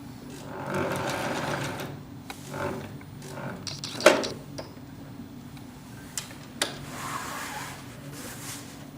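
A sewing machine stitching along the edges of a bag, running in short bursts with rhythmic mechanical chatter and a few sharp clicks and knocks between runs, fairly close.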